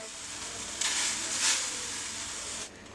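A soft, brief hiss and splash as potato peels drop into hot water, lasting about two seconds before fading out.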